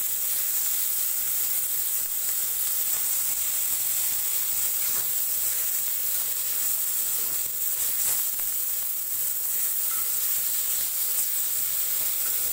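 Ridge gourd fries in a pan with black cumin and onions, producing a steady, even hiss of sizzling oil that continues without pause and without any voices.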